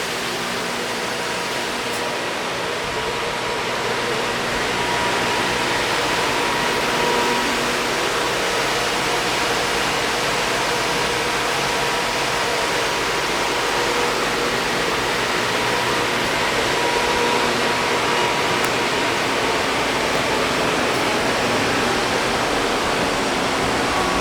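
A German-made Butfering Super 213 53-inch widebelt planer/sander with 40 and 28 horsepower heads runs at higher speed, giving a loud, steady broadband roar and hum that holds unchanged throughout with no speech.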